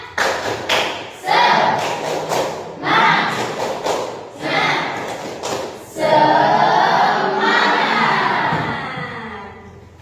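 A class of students claps out a rhythmic pattern together, bursts of loud unison claps broken by short pauses, followed by a longer sustained stretch of clapping and voices.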